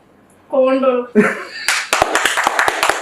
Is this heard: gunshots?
no